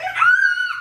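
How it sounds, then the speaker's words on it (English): A young child lets out one short, high-pitched scream close by, rising sharply and holding briefly before trailing off. "no screaming, please."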